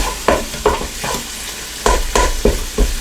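White onions brown in a Ninja Foodi with a strong sizzle, punctuated by repeated stirring scrapes about every half second, close and loud with no talking.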